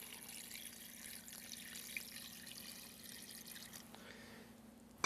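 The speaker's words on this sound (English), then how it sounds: "Now we're going to cover all these ingredients with some cold water." Cold water poured over stock ingredients of peppercorns and bay leaves, a faint, steady running-water trickle that cuts off near the end with a small clunk.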